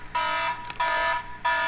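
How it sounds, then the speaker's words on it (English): A loud electronic alarm buzzer blares in three steady bursts with short gaps between them, close and alone with no talk. "That's my alarm to go pick up the brats from school."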